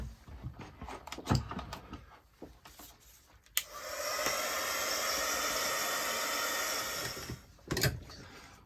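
A heat tool blows steadily over a mixed media artwork for several seconds, a loud, even whooshing hiss, preceded and followed by light handling clatter and taps.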